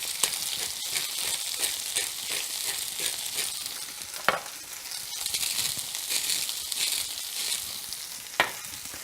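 Baby potatoes fry in butter in a cast iron skillet with a steady, bright sizzle and crackle throughout, punctuated by a couple of sharper pops, with no talking.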